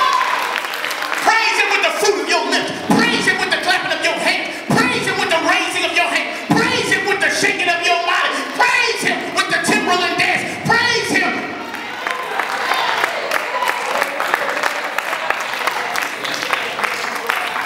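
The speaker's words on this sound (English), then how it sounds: "Praise him with the clapping of your hands" A church congregation claps hands in praise during a sermon, loud sustained applause filling the room, with a preacher's voice and crowd voices over it throughout.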